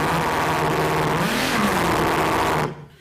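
A voice imitates a truck engine revving, a continuous buzzy mid-pitched drone with a rising and falling swell in the middle, held loud for nearly three seconds before cutting off abruptly.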